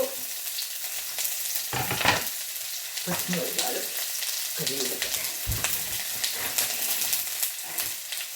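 Chopped onion and green chilli frying in a pan with mustard seeds, a dense close sizzle broken by repeated scraping stirs and clanks against the pan.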